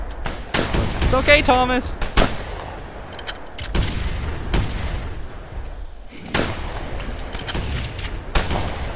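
Close, sharp shotgun blasts ring out in a few spaced booms while a player fights a dinosaur in theHunter: Primal. Someone talks between the shots.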